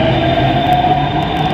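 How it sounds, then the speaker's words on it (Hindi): Delhi Metro train at Noida Sector 62 station, a loud close steady electric hum and rumble of the train with a sustained whining tone. "ये हमारी मेट्रो जिसमें हम आए हैं।"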